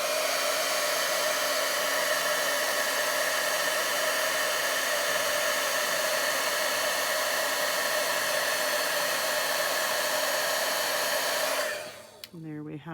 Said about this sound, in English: So I'm going to take my heat tool and I'm going to melt the powder on there.